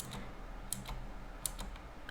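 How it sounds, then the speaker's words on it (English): Computer keyboard keys pressed in a handful of sharp, separate clicks over a low steady hum, close and fairly quiet, with no talking. "Just take this, and then you click the delete button."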